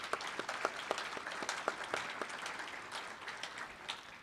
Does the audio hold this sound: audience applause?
yes